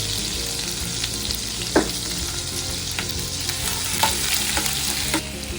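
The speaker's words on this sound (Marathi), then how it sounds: "मी बटर टाकते," Ginger and garlic frying in butter for an Aagri-style crab curry, a steady close sizzle with a few sharp spatula scrapes and stirring clicks throughout.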